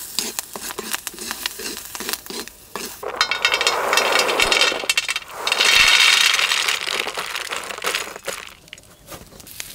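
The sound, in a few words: frying green chillies, curry leaves, tamarind and cumin in a pan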